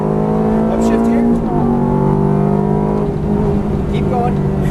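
A Ferrari F430 F1 on a track at Las Vegas roars loudly from inside the cabin at full throttle, its engine note holding a steady high drone with a brief dip from a gearshift, while people talk over it.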